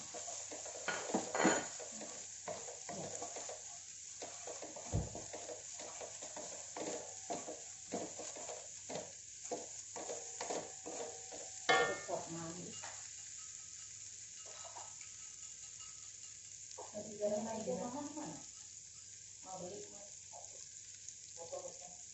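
Onion frying in oil in a pan while making tripe fried rice, with steady moderate sizzling, occasional stirring and scraping bursts, and light clinks of utensils against the pan.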